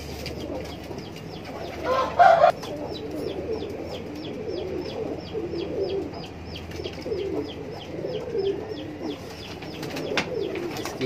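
Pigeons in a high-flyer loft coo softly and repeatedly at moderate distance, with a brief louder flutter or call near the start and a low steady background hum, without talking.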